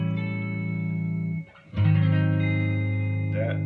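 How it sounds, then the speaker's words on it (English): A Fender Squier Jaguar electric guitar played through effects, with the bridge pickup set to full treble and full volume: a sustained distorted chord rings, cuts briefly, then a second bright chord swells and holds, played alone. "The Jaguar has tones in it that are just unique for the Jaguar."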